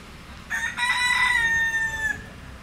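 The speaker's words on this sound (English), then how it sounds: "And the resident rooster." A resident rooster at the small airport terminal on Culebra gives one clear, fairly close crow lasting about a second and a half, rising sharply and then holding a long drawn-out note before trailing off, with no talk over it.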